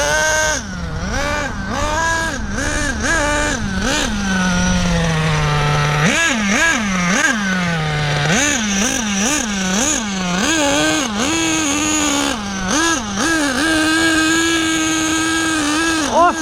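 A nitro-fuelled 1/8-scale OFNA GT LX RC buggy fitted with an Axial .28 engine, running rich and loud, its high-pitched two-stroke whine rising and falling with repeated throttle blips, continuous and close throughout.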